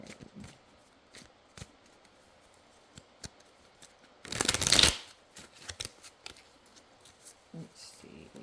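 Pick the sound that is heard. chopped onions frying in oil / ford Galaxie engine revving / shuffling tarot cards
shuffling tarot cards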